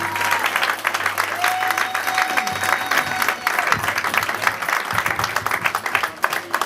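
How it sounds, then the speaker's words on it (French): A church crowd applauds continuously at a pastor's birthday celebration, dense clapping swelling and fading slightly, with a faint voice and a held musical tone underneath. "Tous vos applaudissements"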